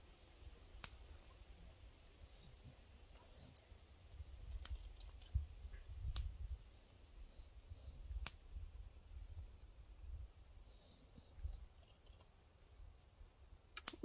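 Scissors cutting sandal material for homemade sun sandals, a string of faint, sparse snips and clicks spread over a quiet background, close and soft, no talk.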